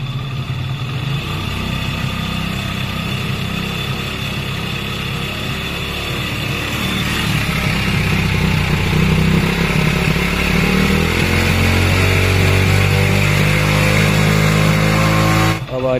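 A motorcycle engine running steadily with its idle being adjusted after a spark plug cleaning, the revs rising and falling unevenly, loud and close throughout.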